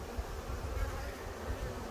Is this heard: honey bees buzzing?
yes